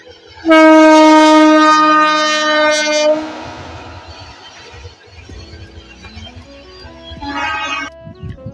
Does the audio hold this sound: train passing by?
yes